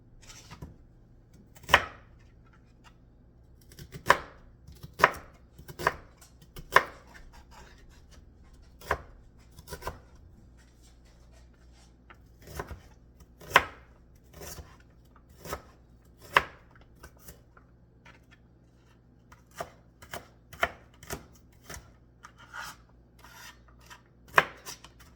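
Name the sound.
chopping onions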